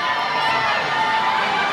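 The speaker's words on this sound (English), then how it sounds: "Y'all are a great crowd. You are super loud." A loud concert crowd cheers and roars in a steady, dense wash of noise, sustained without a break.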